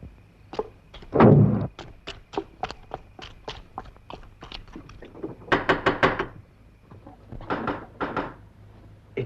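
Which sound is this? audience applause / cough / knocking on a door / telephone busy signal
knocking on a door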